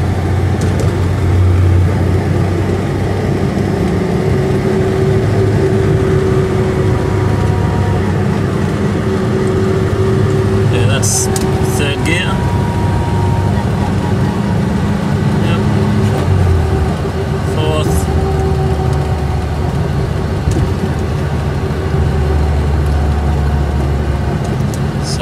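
A turbocharged diesel Gemini car engine drones steadily while driving along a coastal road, a constant low hum with road noise, and people talk over it intermittently.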